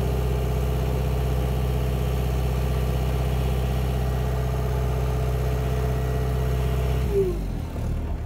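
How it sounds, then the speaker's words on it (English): Car engine idling steadily close by with a thin turbo whine layered over the low rumble, holding evenly before cutting off near the end. "I hear that little turbo."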